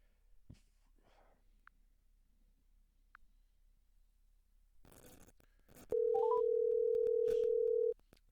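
A telephone dial tone sounds steadily for about two seconds after a few quick rising key beeps, clear and close, following near silence with faint handling noise.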